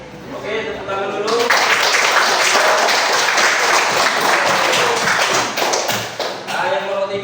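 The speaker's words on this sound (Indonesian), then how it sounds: "Oke, tepuk tangan dulu." A classroom group of students claps their hands in sustained, dense applause for several seconds, loud and close, with voices mixed in at the start and end.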